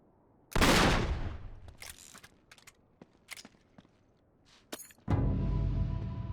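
Gunfire in Uncharted 3 aimed at shooting down a hanging treasure: a loud burst of shots opens, a scatter of sharper single cracks and clatter follows, then another loud sustained volley closes, with no talk.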